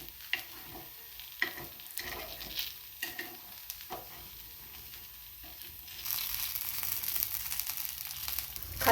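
Coconut appe are turned over one by one in a hot appe pan, with soft sizzling under scattered light taps and clicks of the utensil against the metal. The sizzle swells louder near the end, with no talk.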